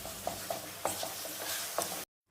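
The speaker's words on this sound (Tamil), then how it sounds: "தக்காளிலாம் நல்லா வெந்து எண்ணெய் பிரிஞ்சு வர வரைக்கும் நல்லா வதக்கி விட்டுட்டே இருங்க" Tomato thokku sautéing in oil in a pan, with soft bubbling sizzle and a few light stirring taps before it cuts to silence at the end.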